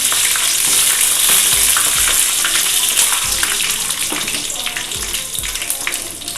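Dried red chillies crackle and sizzle loudly in hot oil close up, a dense continuous hiss with occasional soft stirring knocks.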